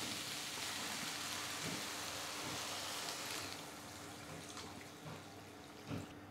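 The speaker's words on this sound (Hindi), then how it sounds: "हम इसमें पानी मिला देंगे।" About three cups of water pour into a pan of chicken and vegetables cooking over a high flame. The splashing rush is steady at first, then softens, with a brief louder splash near the end.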